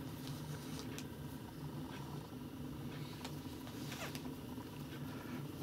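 A kitten meows a few faint, brief times while someone sews and handles thread, over a steady low room hum with no talking.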